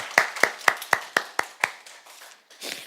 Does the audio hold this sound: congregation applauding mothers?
yes